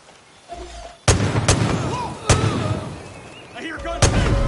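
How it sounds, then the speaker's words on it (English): Sharp, loud gunshots crack out at irregular intervals over a low rumbling backdrop with faint voices, a battle soundscape in the video game Far Cry New Dawn. "I hear gunfire."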